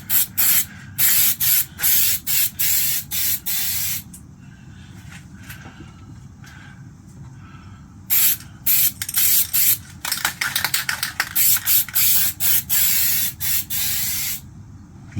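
An aerosol can sprays white paint onto a fishing rod in a long series of short, close hissing bursts, broken by a few brief pauses, with faint handling sounds in between.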